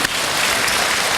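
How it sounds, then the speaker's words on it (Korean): Congregation at an Easter dawn union worship service applauds to welcome the Gimje city mayor, a brief burst of steady, full clapping filling the hall. "일어서시면 자리에서 박수로 맞이하겠습니다."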